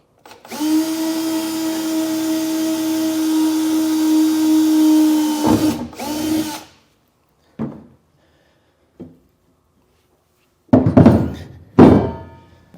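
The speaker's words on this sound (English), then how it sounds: "I like to use a step bit when I do this because I can get it pretty close and just go just a little bit bigger." A power drill with a step bit boring bracket holes for a B&W Patriot 5th wheel trailer hitch, one long steady whine that stops abruptly, followed by scattered metallic clunks and knocks.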